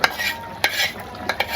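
Pieces of fish hit a pan of vegetable curry and start to fry, with a steady sizzle and a few sharp stirring scrapes and clinks up close. No one speaks.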